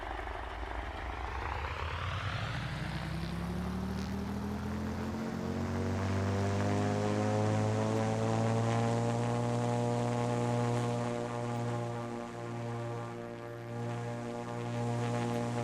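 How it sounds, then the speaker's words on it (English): A Cessna CT210N piston engine idles steadily in a flight simulator, a loud continuous drone with rising harmonic tones settling into an even, throbbing hum, close and alone without talk. "There's some more vibration and movement of the aircraft as it's sitting here idling."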